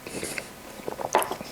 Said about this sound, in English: Actually, it's still kind of hard to chew.